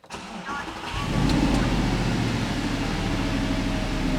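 An Audi R8 with an engine warning fault cranks and fires after about a second, then settles into a steady, rumbling idle that holds loud and close to the end.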